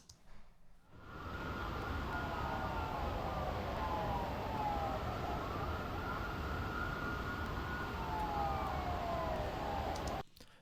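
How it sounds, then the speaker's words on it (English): Several sirens wail and sweep in the distance over a thick, steady wash of street ambience and air noise, fading in and cutting off at the end. "So we've got lots of sirens and lots of ambient"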